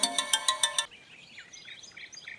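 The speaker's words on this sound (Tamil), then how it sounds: "என்ன தினமாவை பத்தி யோசிச்சுட்டு இருந்தோம், கரெக்டா அவங்களே ஃபோன் பண்றாங்க." Incoming-call phone ringtone in a Tamil TV drama: about six rapid bright melodic pulses at the start, loud and alone, then fading into faint chirpy background sounds.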